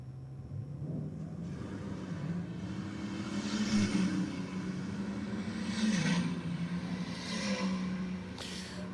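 A Falcon Ute and a hatchback at a drag race, heard as a steady engine roar and rumble from a distance, rising and swelling in waves as the cars accelerate down the strip.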